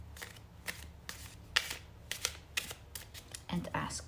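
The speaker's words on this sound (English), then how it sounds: "let's now shuffle your deck" A deck of cards is shuffled in quick riffles and cuts, a run of crisp, close papery bursts at an uneven rhythm.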